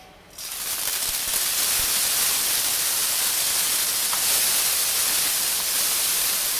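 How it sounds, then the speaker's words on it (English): Garlic sizzles in two tablespoons of hot oil in a pan for a vegan kung pao dish. A loud, steady, broad hiss starts suddenly and holds without a break. "I have 2 tablespoons of oil in here. I'm going to go ahead and put in the garlic."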